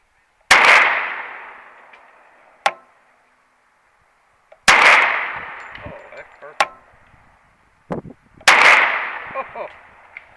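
Three sharp, loud pistol shots from a Kimber .45 at an outdoor range, spaced several seconds apart with ringing decay, plus smaller clicks and knocks in between.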